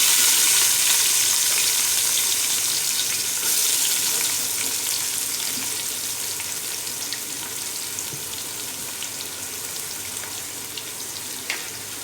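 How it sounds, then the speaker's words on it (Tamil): Chopped onions go into hot oil with cloves, cinnamon and cardamom for a half-kilo chicken biryani, giving a steady, dense frying hiss that fades slightly over time, with no one speaking. "அடுத்து நம்ம வெட்டி வச்சுருக்கிற வெங்காயத்தை அதில் சேர்த்துக்கலாம்."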